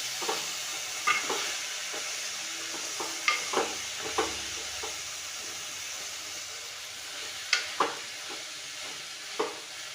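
A spoon scrapes and clacks against a pot of moong dal every second or so, over a steady background hiss of cooking.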